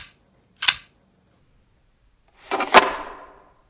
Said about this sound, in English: When the sheath comes to a close, it does make a rather satisfying sound.